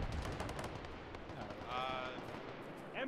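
Bursts of machine gun fire in the video game ARMA 3, quiet and somewhat distant, rattling in short rapid strings amid battlefield ambience.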